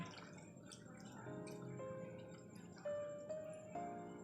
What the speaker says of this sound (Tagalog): Mag-add ta og isa ka baso nga tubig.